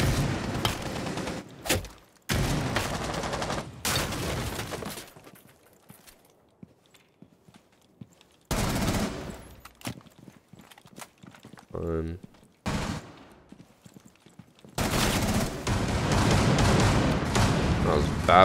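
Gunfire in a video game shooter comes in loud, dense bursts separated by quieter stretches, with a sharp rapid sequence near the end and a long sustained barrage in the final seconds.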